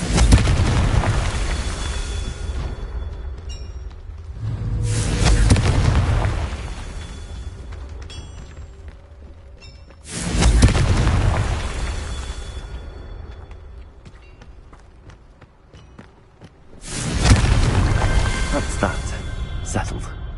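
Confringo blasting spell going off three times in the Hogwarts Legacy video game, each a loud booming burst with a long rumbling tail, spaced several seconds apart, with a voice speaking between blasts.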